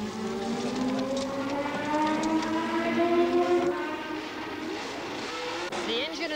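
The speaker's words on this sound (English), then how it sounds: "The engine in the Ligier, the Matra engine, is very smooth indeed." A Ligier Matra Formula One car's V12 engine revving, its rising and falling harmonic whine sweeping up through the gears, loud and close, then easing off before picking up again near the end.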